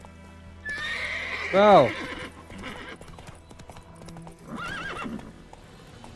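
Roach the horse from Witcher 3 galloping, with steady clip-clopping hooves and a loud whinny early on. A voice speaks briefly over the hoofbeats.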